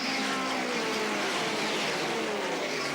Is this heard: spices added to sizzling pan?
no